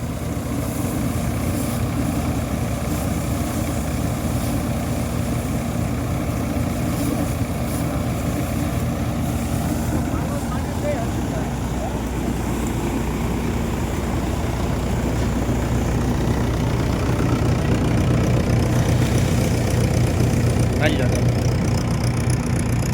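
Two tractors run together during a groundnut harvest in the field, a steady unbroken engine drone throughout with people talking over it.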